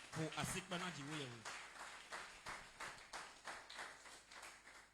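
A church congregation applauding to acclaim the Lord claps in a steady rhythmic beat, soft and somewhat distant. A brief voice comes just before the clapping.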